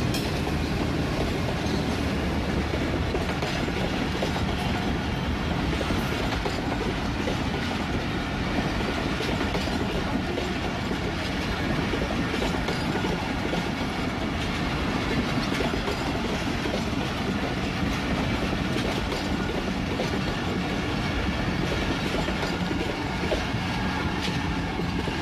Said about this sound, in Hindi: ये ट्रेन चल पड़ी है